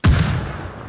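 A grenade explodes in a military shooter game set in Grenada: one close, heavy boom with a sharp onset and a rumbling tail that fades over a second, no voices.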